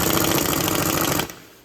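An impact gun runs down a front brake bolt on a 2007-2011 Honda CR-V. It makes a loud, close, continuous rattling hammer for about a second before cutting off abruptly, with no talking.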